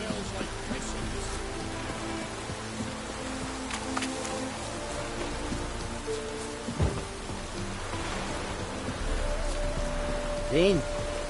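Steady rain patters and hisses across the whole stretch in The Witcher 3, a dense broadband wash with faint background music tones and a brief low thump near the middle.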